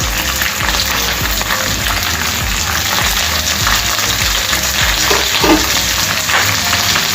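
Green chilies, dried red chilies and curry leaves fry in hot oil in a pan for mango pulihora, giving a loud, close, continuous sizzle with crackling pops and occasional stirring scrapes, and no one speaks.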